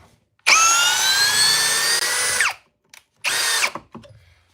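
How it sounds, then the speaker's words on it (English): A powerful battery power drill drives a screw into timber, whining loudly for about two seconds as it winds down, then a short second burst after a pause, close up with no talking. "We'll just keep doing it one drill at a time."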